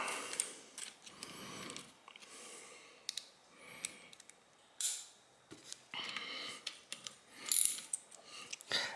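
Ratcheting clicks of a bolt being tightened on the speedometer gear housing of a 1968 GTO TH400 transmission, short close bursts of metallic ratchet strokes with pauses between them.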